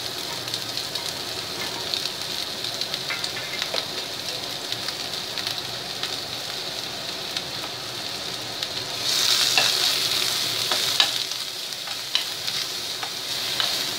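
Green chilies and a dried red chili fry in hot oil in a pan, giving a steady close hiss and crackle that swells louder toward the end, with a few light stirring clicks.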